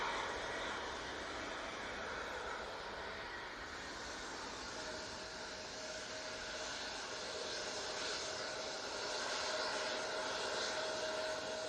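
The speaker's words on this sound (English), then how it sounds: "And the KLM will be coming on now." A KLM airliner at Manchester Airport roars steadily from a distance, a broad continuous engine rumble with a thin whine rising partway through, heard alone without talk.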